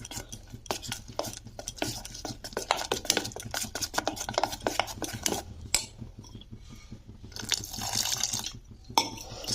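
Thick batter for pumpkin fritters is stirred in a bowl, with a busy run of scraping, clinking utensil strokes and soft wet slaps, close and fairly quiet, becoming more sporadic toward the end.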